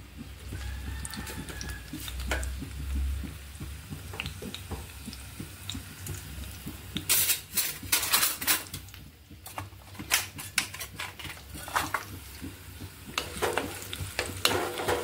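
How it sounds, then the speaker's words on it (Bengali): Onions dropped into hot oil in a pan for a jute leaf stir-fry, giving a steady crackling sizzle with sharper bursts of spattering and stirring clatter in the second half. "তেল গরম হয়ে গেছে, এখন আমি এই যে শাক ভাজির জন্য একটু পেঁয়াজ দিয়ে দিলাম"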